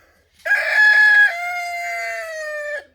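A rooster crows loudly and close by at a backyard homestead, one long drawn-out call that rises sharply and then holds steady before it cuts off, with no voices.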